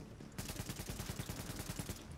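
Rapid bursts of sniper gunfire in The Division video game, a fast rhythmic string of sharp cracks that runs steadily for about two seconds, fairly quiet in the mix with no talk over it.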